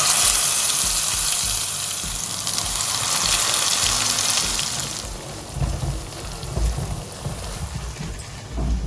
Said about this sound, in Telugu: ఇప్పుడు ఇందులో మనం గ్రైండ్ చేసుకున్న మసాలా వేసేసుకుందాం